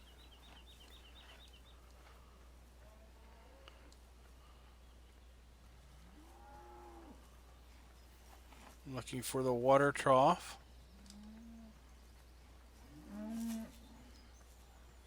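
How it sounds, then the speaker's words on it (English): Cattle moo in a Farming Simulator 17 cattle area. Several low calls come at moderate distance, including one louder, longer moo, and someone talks quietly between them. "Here we have our cattle area."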